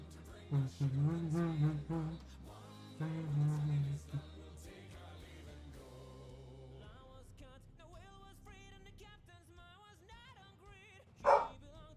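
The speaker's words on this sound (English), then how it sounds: "Dog's barking at me." A dog barks in several loud bursts at the start, then whimpers and yips more faintly, with one sharp bark near the end, heard close to the microphone.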